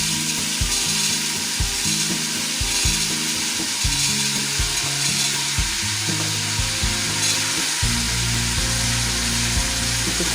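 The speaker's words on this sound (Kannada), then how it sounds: "ಒಗ್ಗರಣೆ ಹಾಕೋಣ" Spices tempering in hot oil for a field bean sambar in a village home kitchen, a loud continuous sizzle and crackle with repeated scraping stirs of a ladle against the pan, close up and without talk.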